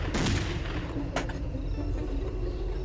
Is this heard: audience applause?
no